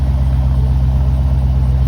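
A Jeep SRT's engine idles up close, a loud steady low rumble with an even pulsing throb and no talk.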